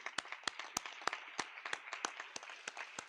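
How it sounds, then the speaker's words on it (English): Sparse, distinct handclaps from a small crowd at a university ROTC commissioning ceremony, sharp individual claps at an irregular rhythm, fairly faint and close. "A round of applause for these young awardees."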